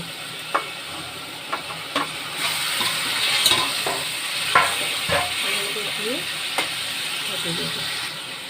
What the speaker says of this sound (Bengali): জলটা একটু ফুটুক, এবার মাছগুলো দিয়ে দেব।